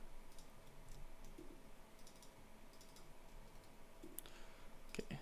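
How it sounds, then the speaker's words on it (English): Someone types on a computer keyboard, and the keys give a quiet, irregular run of soft clicks at a distance with no voices. "Let's type it out."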